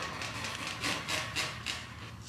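Rhythmic rasping strokes of a saw cutting through material around a compressor part while making Tesla hub adapters, several back-and-forth passes close up with no talking.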